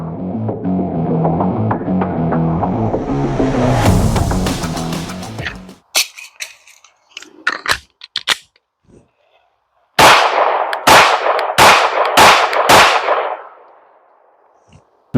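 PSA Dagger pistol fired with a micro magazine, a dense stretch of loud sound giving way to a run of sharp, separate cracks, then five evenly spaced close reports.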